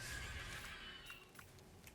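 A horse mount in the video game Palworld gives a high whinnying neigh, fairly faint and mixed with game sounds, followed by a few soft clip-clop steps and no talking.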